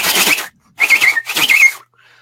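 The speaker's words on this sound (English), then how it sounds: "all of a sudden you heard that whistle chirp" Three bursts of bright whistled chirps, warbling and wavering in pitch, separated by short pauses, fairly close and loud, with no talking.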